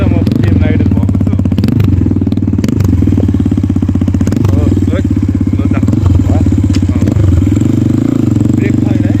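A Kayo T2 motorbike runs steadily at close range on a test ride, its engine a loud, continuous rumble with periodic surges and clattering thumps, while a voice talks over it.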